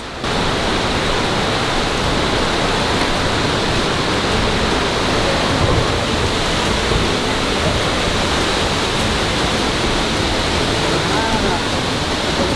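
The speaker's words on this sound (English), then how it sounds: "The waterfall is here." Waterfall on a European island, heard as a steady, loud, broadband rushing roar of falling water that holds evenly through the whole stretch with no break.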